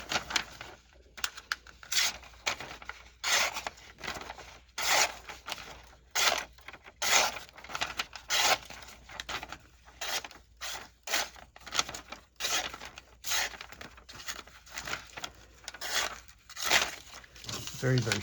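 A Kizer Vanguard Lieb knife with an N690 steel blade slices through paper in a run of quick, crisp rustling cuts close to the microphone, while someone talks throughout.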